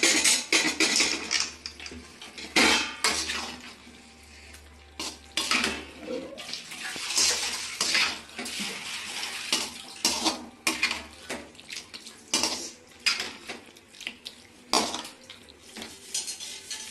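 A metal spoon scrapes and clatters against a pan of chicken curry in quick, irregular strokes, with a faint sizzle or bubbling underneath; no one speaks.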